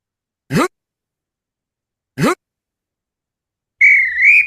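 A programmed robot plays two short chirping beeps a couple of seconds apart, then a steady, clear electronic whistle that wavers slightly in pitch at the end, each sound standing alone in silence.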